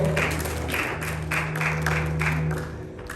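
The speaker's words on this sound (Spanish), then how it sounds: "Denle un aplauso fuerte al Señor" Congregation applause at a church service, clapping in a room over a steady background hum and sustained tonal drone, fairly loud and continuous before easing slightly at the end.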